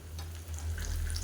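Mustard seeds, urad dal, cumin and fenugreek fry in hot oil, a short burst of close crackling and sizzling that grows louder and busier toward the end.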